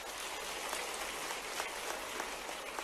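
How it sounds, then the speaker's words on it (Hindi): An audience at a youth dialogue event held by the Madhya Pradesh chief minister claps steadily together, a faint and even wash of applause that continues for a few seconds with no voices over it. "जिनको पसंद है ताली वाली बजा के बताओ"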